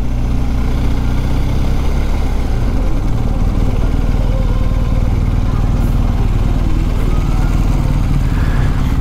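BMW R 1250 GS adventure motorcycle engine running steadily during a ride, a loud, dense low rumble with wind noise that holds constant throughout.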